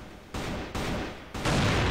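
Gunfire in a competitive shooter game comes as dense, loud, sustained bursts of shots that start abruptly and stay close, with no speech over them.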